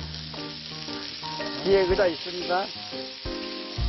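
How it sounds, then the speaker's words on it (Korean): Pork belly sizzles steadily on a hot grill while people talk nearby. "요 지글지글 익어가는 모양새에 세 번 홀리는 삼겹살"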